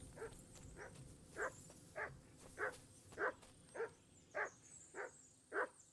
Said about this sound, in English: Why is my dog getting so mad?